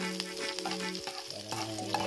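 Onion and garlic sautéing for Filipino chicken adobo crackle and hiss steadily in a hot pan, with a close, continuous sizzle and no talking. Steady tones, most likely background music, play underneath.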